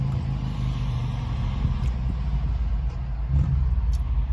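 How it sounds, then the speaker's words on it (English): Cars pass through a McDonald's parking lot, a low rumbling traffic drone heard from inside a parked car, with a couple of louder swells as vehicles move by. "So if you hear noise, that's what you hear, cars going by."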